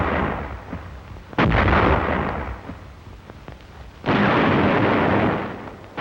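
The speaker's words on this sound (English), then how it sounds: "the infantry watched the smoke and bursts of the barrage" Heavy artillery barrage in a World War II battle, two long roaring bursts of explosions with rumbling between them and sharp individual blasts, loud and close, with no talking.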